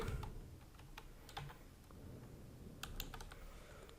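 Quick bursts of typing on a computer keyboard, clustered key clicks with short pauses between them, close and fairly quiet.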